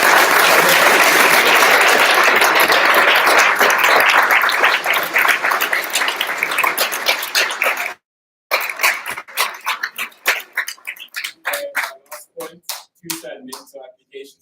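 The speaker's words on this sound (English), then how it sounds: "So just a quick round of applause." A live audience breaks into a dense, loud round of applause that holds steady for several seconds, then thins into scattered individual claps after a brief silence; a voice is briefly heard.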